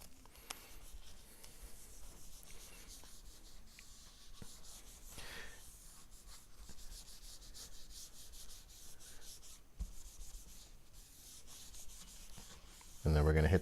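Soft, steady rubbing of a cloth applying finish along a Black Limba (Korina) Strat-style guitar neck, a faint continuous friction with small scuffs and no talk, ending in a brief loud bump.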